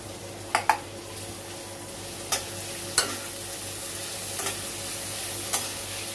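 Tomato goes into onions frying in a pan for shendvel ranbhaji: a steady sizzle under a handful of sharp metallic clinks and scrapes of a spoon against the pan.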